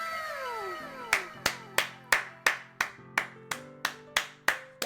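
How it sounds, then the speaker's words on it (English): Twelve sharp hand claps fall in a steady, evenly spaced rhythm, each crisp and close, after a descending musical tone, over a soft sustained background melody. "That deserves its claps."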